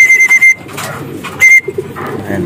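Racing pigeons arriving home to their loft, with soft coos and wing flutters close by, mixed with sharp beeping tones and faint background noise.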